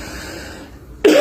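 A person with a sore, not yet healed throat gives one short, harsh cough or throat clearing at the very end, loud and close after a moment of quiet room tone.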